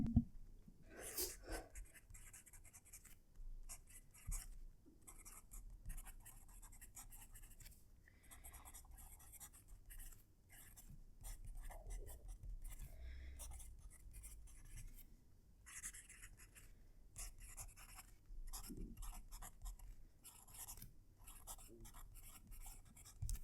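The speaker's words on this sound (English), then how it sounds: "I'm going to reposition the mic so you can hear the writing." A TWSBI Vac fountain pen writing on paper, close to the mic, with faint scratchy nib strokes in irregular bursts and short pauses, quiet and without speech.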